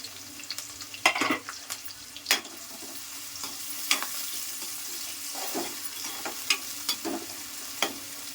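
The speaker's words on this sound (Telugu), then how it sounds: "ఉల్లిపాయలు అయితే మంచిగా ఎర్రగా వేగిపోవాలి" Onions and curry leaves fry in a pan for a curd brinjal curry, a continuous close sizzle broken by repeated sharp spatula clicks and scrapes.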